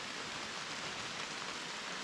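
Steady rain falling outdoors during a Georgia morning deer bow hunt, an even broadband hiss with no breaks, continuous and moderately loud with no voices.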